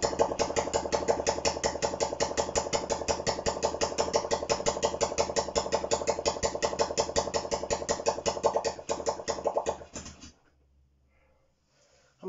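Honda CB125 RS motorcycle engine idling steadily with a fast, even putter for about ten seconds before it cuts out, leaving near silence.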